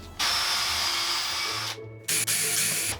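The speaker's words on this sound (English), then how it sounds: "So when drilling the holes here, put a board underneath so you don't get any blowout." A power drill bores holes through a wooden board laid over a backing board, running loud and steady, cutting out briefly, then whining back up, close to the mic.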